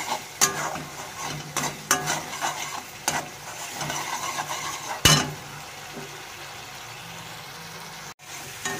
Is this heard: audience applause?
no